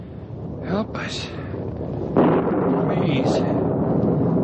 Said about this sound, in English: It's thunder.